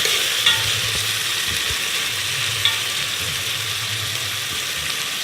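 Onions sauté in a pan with an even, constant sizzle. A couple of faint clicks or scrapes come through near the start and middle, and there is no talking.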